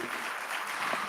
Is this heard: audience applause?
yes